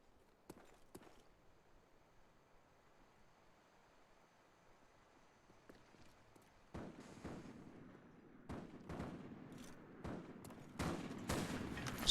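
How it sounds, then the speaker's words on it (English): Video game gunshots at the B site during a competitive sniping match, faint isolated cracks early on, then a louder cluster of sharp shots building toward the end. "Shots ring out at the B site."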